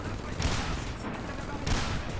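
Rapid gunfire in the video game Frontlines: Fuel of War, with bursts of shots and booming impacts cracking over and over at close range, and a player's voice audible among them.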